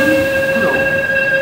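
A Korail Line 1 subway train, a Yongsan express, rolls loudly into Sindorim station with a sustained tonal hum and rumble, briefly and close, with no voices.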